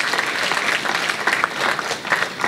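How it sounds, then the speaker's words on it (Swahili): Audience at a meeting with a prime minister present, clapping in steady, dense applause with no one speaking over it. "Naomba tuwapigie makofi kubwa sana."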